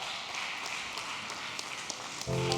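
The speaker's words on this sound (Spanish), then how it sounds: "Póngase de pie, mantenga ese aplauso para el Señor." A church congregation applauds during a Spanish-language worship service, a steady wash of clapping throughout, with a brief musical tone entering near the end.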